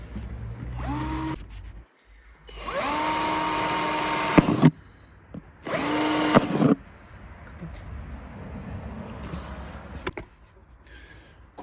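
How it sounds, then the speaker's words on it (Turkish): An electric drill bores drainage holes through the bottom of a plastic bucket used for planting a fig seedling, in two loud whining bursts of a couple of seconds each, with quieter handling noise between them. "kovamızın altına delik deldik"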